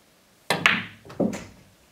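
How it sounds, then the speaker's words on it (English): A pool cue ball rolls into the table cushion, giving two dull, close thunks about two-thirds of a second apart, each fading quickly into quiet. "The most reliable approach here is to roll the cue ball into the cushion with right English to create a natural,"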